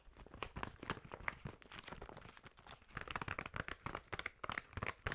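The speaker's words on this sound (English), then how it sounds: "I'll get you a piece of paper and then we can share the markers." Paper rustled and crinkled up close in a quiet ASMR babysitter setting, a soft, continuous crackling with sharper crinkles building in the second half.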